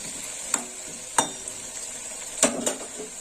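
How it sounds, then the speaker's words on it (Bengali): Potatoes frying in oil in a home kitchen, a steady sizzle broken by a few sharp clinks and scrapes of a utensil against the pan. "আলুটা একটু লাল লাল করে ভাজা হবে"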